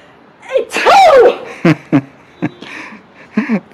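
A girl imitates a sneeze, giving a drawn-out rising inhale followed by a sharp burst, then a few short breathy bursts and giggly sounds, close and loud.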